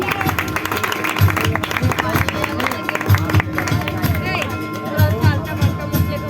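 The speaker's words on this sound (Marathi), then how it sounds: "टाळ्या वाजून स्वागत करायचं आहे विद्यार्थिनीचं" Audience applause welcomes a student at a community award ceremony honouring meritorious students, with steady clapping running throughout under crowd murmur and a speaker's voice over the hall.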